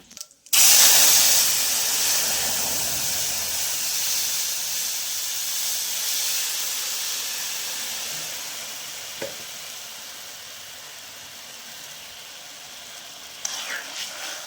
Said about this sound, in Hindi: जीरे के बाद इसमें डाल देना है हींग आपको। इसको अच्छे से भूनने देंगे।